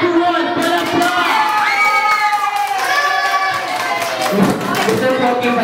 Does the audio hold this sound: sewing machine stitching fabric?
no